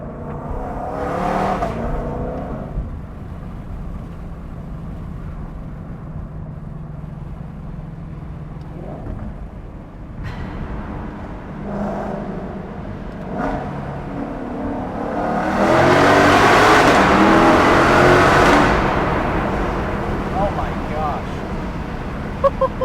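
A 2022 Shelby GT500 pulls through a tunnel, its engine rising in surges and building to a loud, roaring acceleration with strong echo near the end, while people talk over the car noise.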